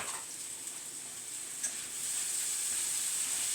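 Salted onions sizzle steadily in a pan over medium heat while caramelizing, a continuous bright hiss that swells slightly louder partway through, with no voices.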